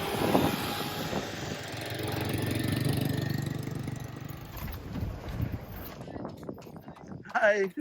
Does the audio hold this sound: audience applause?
no